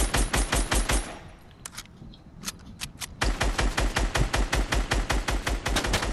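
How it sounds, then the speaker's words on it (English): Gunfire in a Fortnite Season 3 duos match, loud rapid bursts of regular shots that stop briefly and then resume as a steady stream, with no talk over it. "I'm getting sniped at."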